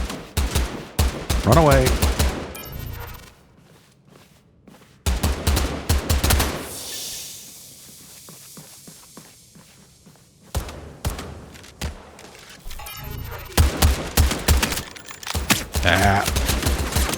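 Gunfire in the video game Blindfire comes as rapid, punchy bursts of shots separated by quiet gaps, loud and close, with a person speaking briefly between volleys.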